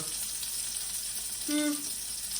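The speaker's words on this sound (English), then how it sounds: "You want that hot grease cooking." Food frying in hot grease in a pan, skin side down, a steady close sizzle and crackle running throughout with a brief tonal clink or scrape near the middle.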